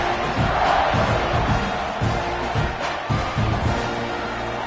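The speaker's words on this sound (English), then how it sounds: "this crowd is buzzing after that last score" Stadium crowd at a college football game between Arizona State and Texas A&M, a steady loud roar and buzz of many voices filling the whole stretch, with swells of cheering and shouts rising above the din.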